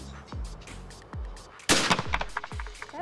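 Shotgun blasts at a skeet shooting range: a sharp, loud report stands out near the middle, set among several softer, thumping shots spaced through the rest, all heard alone with no talking.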